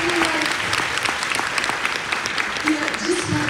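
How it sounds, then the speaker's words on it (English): An audience breaks into warm, full applause for a guest, a thick sustained roar of clapping with a voice faintly heard beneath it, close and loud from start to finish. "Just hear a little applause for Kylie"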